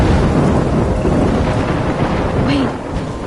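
A thunderstorm in the video game Life is Strange roars as a loud, steady wash of rain and rumbling thunder that fills the whole stretch, easing slightly near the end.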